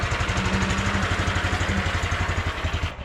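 A T-18 tractor engine runs steadily at close range, its rapid rhythmic knocking putter continuing evenly before the sound cuts off near the end.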